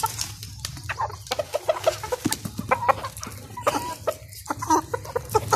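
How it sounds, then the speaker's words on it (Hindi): Several Black Australorp hens cluck and murmur nearby in short, irregular bursts while eating roti, a busy overlapping flock sound with no talking. "ये है जी वो मेरी लाडली मुर्गी, ये खा रहे हैं जी सारे।"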